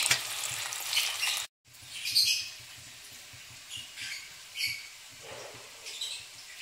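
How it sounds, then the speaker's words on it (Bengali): Potatoes frying in a pan for paneer curry give a soft, steady sizzle with intermittent bursts of crackle and occasional stirring scrapes, close and moderately quiet, with a brief gap of silence early on. "আলুটাকে ভেজে রাখছি পনিরের তরকারিটা"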